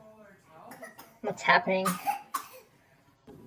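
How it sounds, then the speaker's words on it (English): Coughing from a child at a family gathering, a short harsh burst amid brief questioning talk and surrounding voices, close and moderately loud. "Why cough in somebody's face?"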